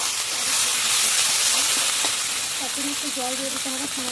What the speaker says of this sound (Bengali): ভালো করে সুন্দর করে মশলাটা কষিয়ে নিতে হবে